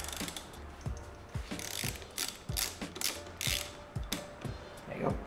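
A hand ratchet tightens a bolt on an Aprilia RS660 motorcycle, giving quiet, close, rhythmic clicking strokes with short pauses between them, heard alone.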